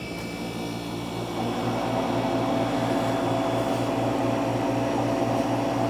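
A Cube freeze dryer runs with a steady mechanical hum and low rhythmic pump throb, the drone swelling slightly louder after the first couple of seconds and holding constant.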